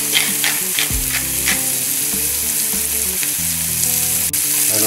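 Langoustines sizzle steadily in a pan of softened peppers and celery, a continuous close frying hiss with a few sharper crackles and faint utensil clicks, no voices.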